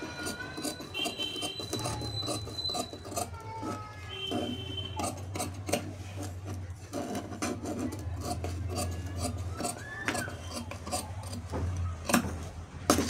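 Scissors snip and rasp through blouse lining fabric on a table, a close series of crisp cutting strokes with soft rubbing and handling noises between them, steady throughout with no talking.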